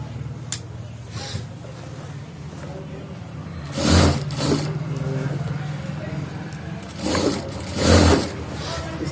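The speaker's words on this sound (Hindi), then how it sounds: "इस तरह से इसको एकदम मिलान किया और इसकी सिलाई कर देंगे" Sewing machine stitching a shirt sleeve, a steady motor whir through the run with louder bursts around the four-second and eight-second marks, close by.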